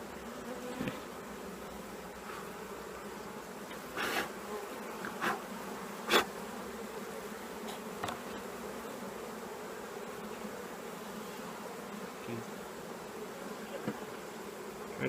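Honeybees drone steadily and faintly at an open hive while a beekeeper works with honeycomb and honey, with occasional soft knocks and clicks over the continuous buzz and no speech.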